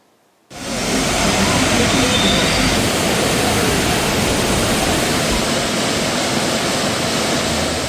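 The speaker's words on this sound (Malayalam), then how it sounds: "അതിരപ്പള്ളിയിൽ നിന്ന് വാഴച്ചാൽ പോകുന്ന വഴിയുള്ള പ്രധാന ആകർഷണമാണ് ഈ ചാർപ്പ വെള്ളച്ചാട്ടം" Charpa waterfall near Athirappilly, on the road to Vazhachal, roars as a dense, continuous broadband rush that starts abruptly and holds steady and loud with no talk.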